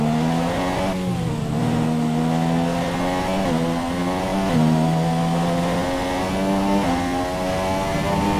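A Formula 1 race car engine in a racing video game, a sustained loud whine with rising and falling pitch as the car shifts and accelerates, continuous with no talk.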